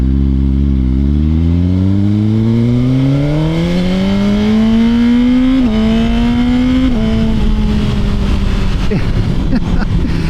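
Suzuki GSX-R 1000 sportbike accelerating hard under power, the close, loud engine note climbing steadily through several gear changes, with wind rush throughout.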